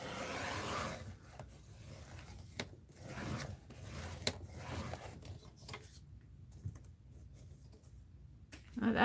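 Paper being trimmed for an art journal makes soft rasping, rubbing cuts in several short bursts close by, with a louder scrape at the very end.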